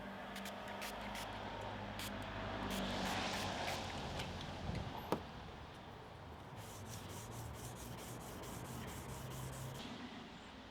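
Headlight restoration on a Nissan Primera P12, with the lens wet sanded using a lubricated Turtle Wax restoration pad, gives a soft, continuous rubbing and scrubbing sound, faint and close, with a brief click midway and a steady pulsing stroke later on.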